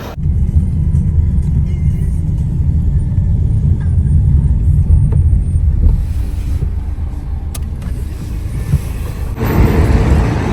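Steady engine rumble and road noise heard from inside a moving taxi, loud and continuous with slight shifts in tone near the end.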